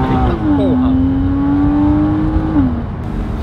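A Porsche Boxster sports car driving, its engine note holding a steady hum with a rising then falling pitch sweep, heard from close by.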